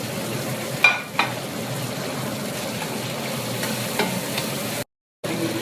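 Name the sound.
sautéing vegetables with onion and garlic in a pan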